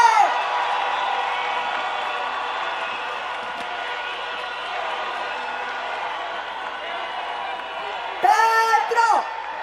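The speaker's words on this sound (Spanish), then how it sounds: "Aplauso, aplauso, aplauso muy fuerte a nuestro presidente." Large rally crowd cheering and applauding for Colombian president Gustavo Petro, a dense steady roar throughout with a few louder whoops and shouts near the end.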